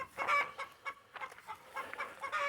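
Chickens on a homestead cluck in short, separate bursts, a few hens calling close by in a quiet yard with brief gaps between each call.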